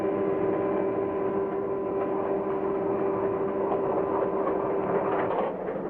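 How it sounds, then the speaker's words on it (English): A Santa Fe freight train rolls slowly over the many tracks leading out of a freight yard, a steady low rumble with a sustained tonal hum and faint rhythmic wheel clatter, moderately distant and unbroken. "Freight train number 40 is carefully winding its way through the many tracks that lead out of the freight station."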